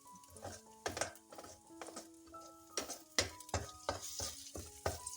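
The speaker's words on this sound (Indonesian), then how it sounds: "Lalu kita masukkan si bawang merah bawang putihnya ya, aduk-aduk." Shallots and garlic frying in a pan with a soft sizzle, punctuated by repeated clinks and scrapes of a utensil stirring against the pan at an irregular rhythm, close and moderately loud, no voices.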